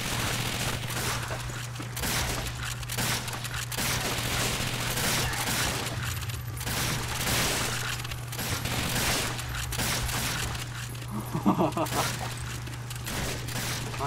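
Gunfire in the Call of Duty: Finest Hour video game on the Soviet Eastern Front, a steady barrage of shots and battle noise running the whole time under a constant hum, with a voice speaking over it.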